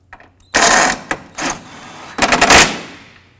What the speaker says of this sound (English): Using a ratchet wrench or your regular wrench,